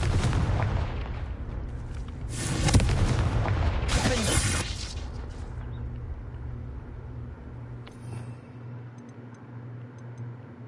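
A Confringo spell explosion in the video game Hogwarts Legacy, a loud booming blast with a rumbling roar that swells over several seconds and then fades into a low hum.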